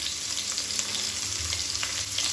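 Sliced medium onion frying with whole spices in hot oil, a steady close sizzle and crackle throughout with no talking.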